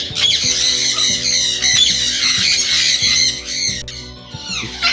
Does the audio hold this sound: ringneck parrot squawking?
yes